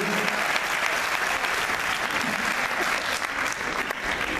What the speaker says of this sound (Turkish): Hepimiz alkışlar mıyız?